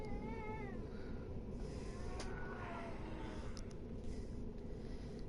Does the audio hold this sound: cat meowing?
yes